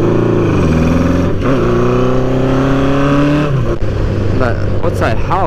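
A cafe racer motorcycle engine runs steadily up close, its harmonic drone holding pitch and then dropping around the midpoint before settling into a lower idle-like note, with wind noise over it throughout.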